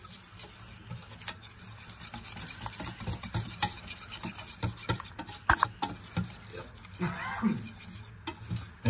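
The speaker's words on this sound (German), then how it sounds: "Da muss ich unbedingt alles umrühren, oder?" Flour mixture stirred in a pot for a lasagne sauce, with repeated scraping and clinking of a utensil against the pot in an uneven rhythm, and some faint background noise.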